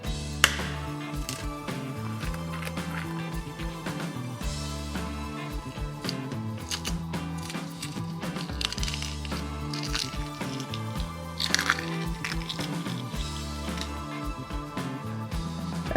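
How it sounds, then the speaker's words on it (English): Cooled boiled eggs from an egg cooker are cracked and peeled close up, with soft crunchy taps and shell crackles scattered over a steady background hum. "let's crack them open and see how this egg cooker did"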